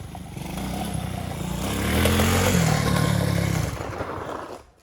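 A quad ATV engine revs hard during a rough test ride, running loud and close throughout with a rising roar around the middle, some rattle mixed in, before cutting off abruptly at the end.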